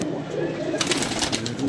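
A captured pigeon coos softly, with a few low, rounded calls under a background of street noise and a nearby passing car, while people talk faintly nearby.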